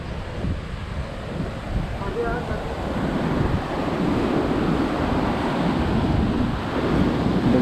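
Steady roar of ocean surf washing onto a Goa beach at high tide, with heavy wind buffeting the microphone and a constant rumbling wash throughout.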